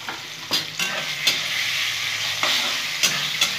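Tamarind for pickle being stirred in a frying pan, with soft sizzling broken by several sharp scraping strokes of the spatula at irregular intervals, close and alone.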